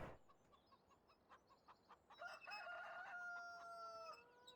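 Chickens in a coop in Farming Simulator 17 make soft, irregular clucks, then a louder drawn-out crow-like call rises near the end, all fairly quiet and set against light background noise.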